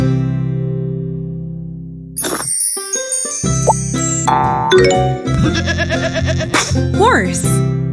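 A cartoon sheep bleats in a children's animal game, a short wavering bleat near the end that follows a steady tone, chimes and bright jingling effects.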